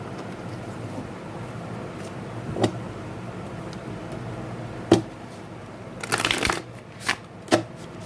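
Tarot cards being shuffled and riffled during a pick-a-card reading, with scattered soft card snaps giving way to a louder burst of rapid shuffling and a couple of sharp final taps.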